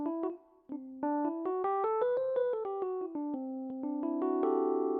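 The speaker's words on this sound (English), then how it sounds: "So in C Lydian would sound like this." A C Lydian scale played on a live looping setup: clear, sustained tonal notes step upward one by one, then descend again and settle on a long held final note, with no talk.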